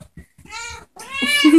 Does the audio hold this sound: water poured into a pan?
no